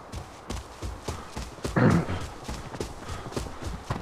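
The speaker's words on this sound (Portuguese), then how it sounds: "tem cavalaria vindo aqui, parece." Cavalry horses approach in a video game, their hooves a regular clip-clop of fairly quick hits, moderately close, with a brief louder scuffle midway and no voices.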